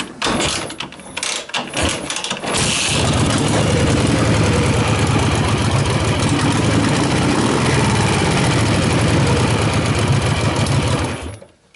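A Dnepr MT-11 motorcycle engine, freshly overhauled and with an oil pressure problem, fires up after a few seconds of cranking and runs loud and steady at close range with a rapid, even throb until it cuts off.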